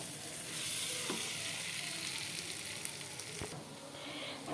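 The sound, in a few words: rice frying for spicy pulao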